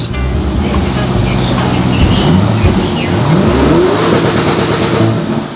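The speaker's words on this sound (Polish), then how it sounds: "przyjechał Urus, mój ulubiony samochód" A Lamborghini Urus SUV engine revs loudly and close by, its pitch sweeping upward in a few rising surges over steady, busy background noise.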